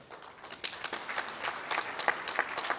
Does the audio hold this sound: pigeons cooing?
no